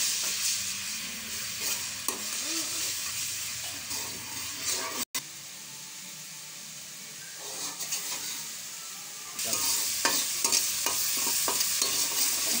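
Garlic and ginger fry in a karahi for a chicken tikka karahi, a steady close sizzle with scraping stirs. A brief break comes near the middle, and the sizzle returns brighter toward the end.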